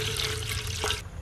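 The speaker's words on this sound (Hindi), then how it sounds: "देखिए मैं डाल लेंगे पानी," Water running into a cooking pot on the stove to boil rice, a close, steady tap-like stream and splash that continues evenly and then cuts off sharply near the end, with no speech.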